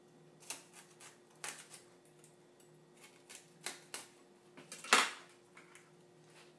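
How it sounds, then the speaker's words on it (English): Knife work on a kitchen board while trimming the outer leaves off a cauliflower: quiet, scattered clicks and scrapes at irregular intervals, with one sharper, brighter snap near the end. "I cut all the leaves off the outside."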